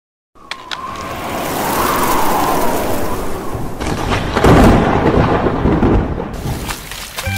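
Thunder rolls over steady rain in an animated Sakura School Simulator scene, a long rumbling boom that swells and fades, then a second louder crash, heard loud and near with no voices.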